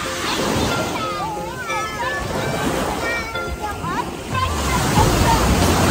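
Surf washing onto a black sand beach at Komatsu Kaigan in Tokushima, a steady close wash of breaking waves throughout with voices chatting over it and a heavier surge near the end.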